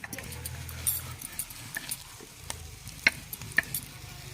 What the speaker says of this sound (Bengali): কুলের সাথে গুড়গুলো ভালো করে মিশিয়ে নিচ্ছি।